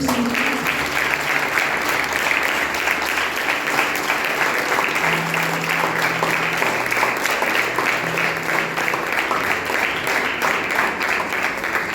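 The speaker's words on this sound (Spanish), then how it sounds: "Dale un fuerte aplauso a Dios." Church congregation applauding loudly and steadily, a dense wash of many hands clapping without pause, close and filling the room.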